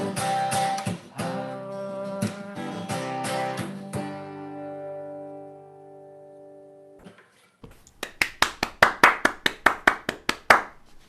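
A few people clap their hands at a virtual campfire sing-along once a song ends. Sharp, brisk claps ring out in a steady burst over the last few seconds, after sustained guitar-like tones fade away.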